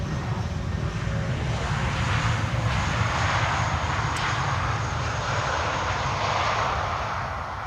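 An airliner at Amsterdam Schiphol roars steadily on the runway, a broad continuous engine rush that swells slightly and holds for several seconds with no talking over it.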